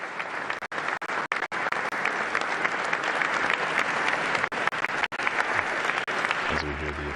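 Sustained applause fills a state reception hall as an audience gives Pope Leo XIV a standing ovation at the Quirinal Palace with President Sergio Mattarella, dense and steady with a few brief gaps before it ends.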